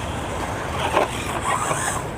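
Small Hosim MOXLIN M13 1/14-scale brushless RC truck running off-road on rough ground, a steady broadband motor and tire rumble with a brief louder surge midway, fairly close and continuous with no talking.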